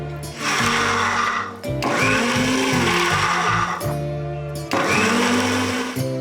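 An electric mixer grinder whirs loudly as it grinds pani poori ingredients with a little water into a fine paste, running in three long bursts separated by short pauses.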